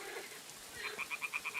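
Toads croak in a swampy spot in Kingdom Come: Deliverance 2, giving a run of about six short, evenly spaced calls that pulse close by over a quiet background.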